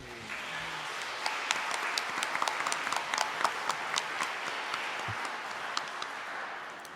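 Audience applause with scattered hand claps fills a large hall after the first Indigenous-led fire prescription in Canada is announced at a climate and forest stewardship talk, steady and moderately loud for several seconds.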